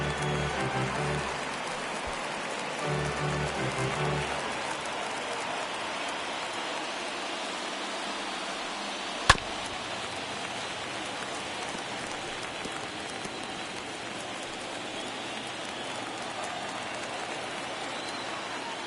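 Crowd noise fills a baseball stadium during the 2022 World Series, Dodgers at Astros: a steady, dense roar of many voices throughout, with a single sharp crack partway through.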